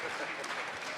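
Audience applause at a London comic convention voice-actor panel, a short, fairly faint burst of clapping from the crowd.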